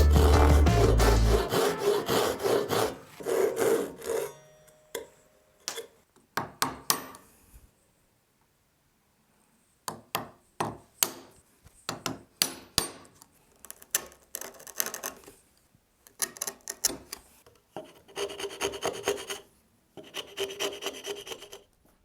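Hand saw and file working wood to cut a dovetail joint: dense rasping strokes at first, then a pause, then rhythmic bursts of scraping and filing, close and fairly quiet, with no talk.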